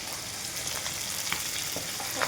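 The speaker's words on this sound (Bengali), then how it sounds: "আগুনটা বাড়িয়ে দেব, মাছগুলি যাতে সুন্দরভাবে ভাজা হয়।" Papda fish sizzling and frying in a pan, a steady dense hiss with occasional crackles and pops, close and continuous with no talking.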